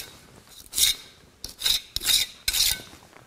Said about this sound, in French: Et je lisse le mortier pour être bien à fleur de la dalle.